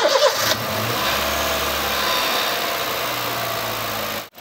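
A car engine cranks and fires up after a radiator coolant flush, then settles into a steady, loud idle close by for several seconds before cutting off abruptly at the end.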